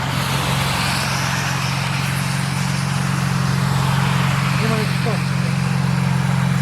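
BMW M5 engine idling loudly with its exhaust flaps open, a steady deep drone with a strong low hum that holds constant, heard close up.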